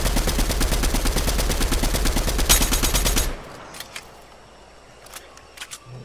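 Rapid automatic gunfire in a VR battle royale video game, a loud continuous burst of shots lasting about three seconds, then cutting off to quieter background with a few faint distant pops.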